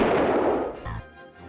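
A loud, booming gunshot from the on-rails shooter Mad Dog II: The Lost Gold, with a rough blast that decays over most of a second, followed by a brief low thud and faint trailing noise.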